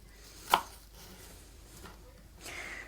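A knife chops food on a cutting board at home while preparing spaghetti bolognese: one sharp, close thunk followed by softer scraping and faint cutting sounds, with no speech.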